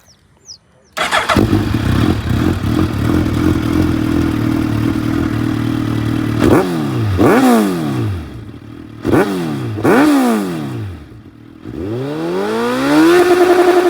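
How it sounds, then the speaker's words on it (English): A Suzuki Hayabusa superbike with a Akrapovič exhaust starts and idles with a loud rumble, then revs repeatedly in sharp rising and falling bursts, close and dominant throughout. "Guys, आपको Hayabusa का sound सुनाता हूँ।"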